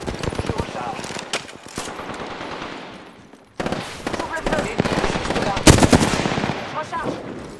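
Rapid automatic gunfire from the video game Apex Legends rattles in dense, loud bursts with sharp cracks, pausing briefly midway before resuming even harder, while a voice speaks over the shooting.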